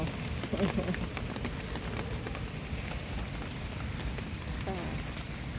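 Steady rain patters down in a continuous broadband hiss, with a faint voice murmuring briefly underneath.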